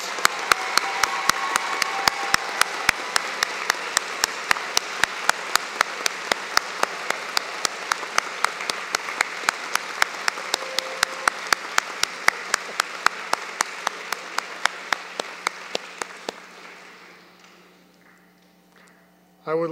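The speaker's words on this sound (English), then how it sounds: "let's have another round of applause for our Student Award winners!" An audience at a spring convocation applauds student award winners, with broad crowd clapping and a few sharp, rhythmic close claps standing out. It thins and fades out near the end, leaving a quiet room hum.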